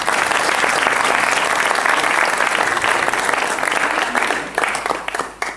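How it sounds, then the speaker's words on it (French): Audience applause at a regional blackball pool final in Brittany, France, a dense and steady clapping crowd at close range that continues throughout and begins to thin out near the end. "Merci d'applaudir."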